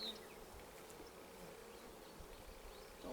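Honey bees droning in a continuous, even buzz around colony frames during the installation of new hives, a dense steady hum throughout with no talking.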